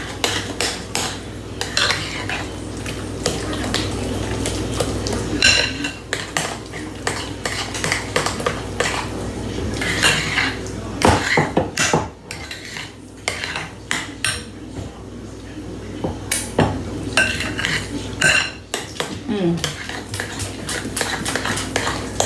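A utensil stirring slow cooker lasagna ingredients with Italian seasoning and basil, clinking and scraping against the dish in irregular bursts, close and fairly loud, with brief quieter pauses.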